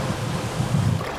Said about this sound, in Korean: 거친 파도는 단단한 콘크리트 구조물까지 무너뜨릴 정도로 위협적이다.